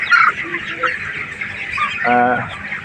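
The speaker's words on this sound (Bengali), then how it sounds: "আমাদের হচ্ছে সোনালি মুরগি" Sonali colour-bird chickens on a poultry farm, a few close clucks and short squawks over a brief stretch, with a harsher drawn-out call near the end.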